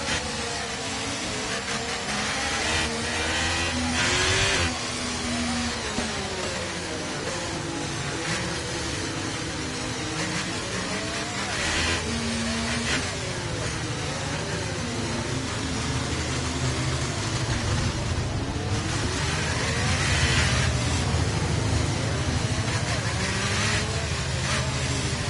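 A Formula 1 car engine in the racing game F1 23 at Monaco screams continuously near and loud, its pitch rising and falling as the car revs up and down through the gears.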